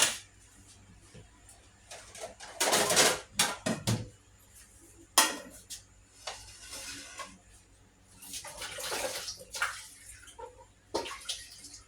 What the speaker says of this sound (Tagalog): Atin muna po siyang huhugasan ng maigi yung ating talong.